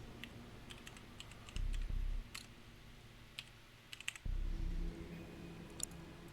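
Soft clicks of typing on a computer keyboard, heard faintly as a few scattered keystrokes over a low background hum.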